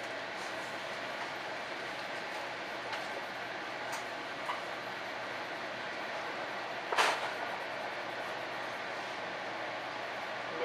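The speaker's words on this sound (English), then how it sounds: "Rock Island, train number 621 to Blue Island, Vermont Street, departing at 4:10 p.m." A Rock Island commuter train bound for Blue Island via Vermont Street runs with a steady, faint, even rumble throughout, broken by one brief sharp click partway through, with no talking.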